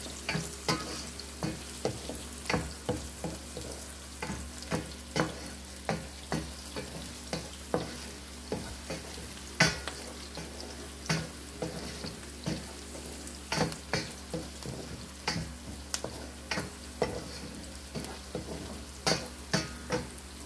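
Garlic and leftover grilled chicken stir-fry for pancit in a hot pan, a steady sizzle broken by frequent regular scraping strokes of the spatula, close and busy throughout.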